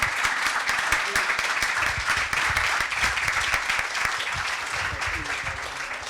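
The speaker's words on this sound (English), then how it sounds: "Would we please give a round of applause to the mother Hey! and father of Maestro Bordogna?" Audience applause for the mother and father of opera singer Paolo Bordogna, a steady dense clapping from a large crowd that fills the whole stretch without a break.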